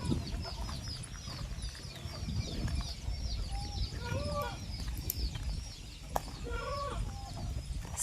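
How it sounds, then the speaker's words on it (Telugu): Many chickens cluck and chirp close by in short, overlapping bursts over a steady low rumble of background noise. "కోళ్ళు అయితే చాలా ఉన్నాయి ఇవి కోళ్ళు"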